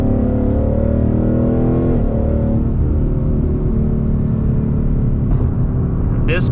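A Ford Mustang engine drones loudly in sixth gear, then rises in pitch as the revs jump after a paddle-shift downshift, heard from inside the car with a steady rumble throughout.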